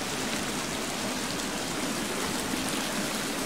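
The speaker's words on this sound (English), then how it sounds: "This water's very loud." Loud rushing water in The Forest video game, a constant broadband roar like a waterfall or fast stream, steady and close with no breaks.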